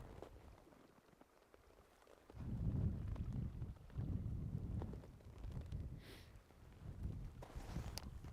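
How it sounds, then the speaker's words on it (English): Night wind outdoors in Utsjoki gusts against the microphone as faint, low rumbling buffets that swell and fade in waves, with occasional soft crunches and rustles. "Oh, this wind."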